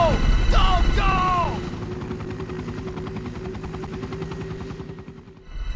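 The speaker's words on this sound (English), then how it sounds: "the helicopter pilot Brad Vickers just leaves" A helicopter lifts off and departs in the Resident Evil video game, its steady rotor chop thudding loudly for several seconds before fading out, with a brief shouted voice at the start.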